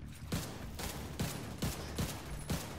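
An AK rifle firing in The Division 2 game, six evenly spaced sharp shots about every half second, quite faint and distant-sounding with lingering noisy tails between them.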